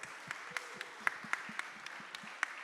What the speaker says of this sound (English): Big round of applause for Mr. Mo.